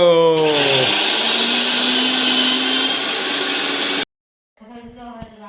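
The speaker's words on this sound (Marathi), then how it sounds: "तर आपला आहे इकडे मिक्सर" A kitchen mixer grinder coarsely grinding spices, a loud close whirring motor running for about four seconds before it stops abruptly, followed by a moment of silence and then speech.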